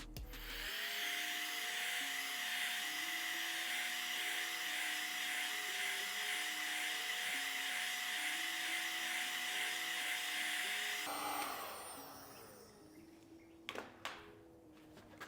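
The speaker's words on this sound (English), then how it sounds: "So we're just gonna grab our little heat gun and get going on that." A small heat gun blows steadily on the adhesive behind a BMW G87 M2 front reflector, a loud continuous whirring hiss with a whine that cuts off near the end, followed by a few handling knocks.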